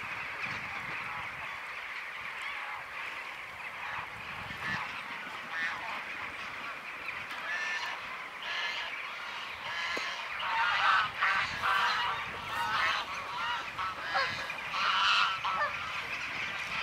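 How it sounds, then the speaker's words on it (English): Geese honking beside Caerphilly Castle during a winter snowfall, the flock circling and settling into trees; a steady chorus of repeated honks at moderate distance, growing louder and busier toward the end. "I think there's a geese there."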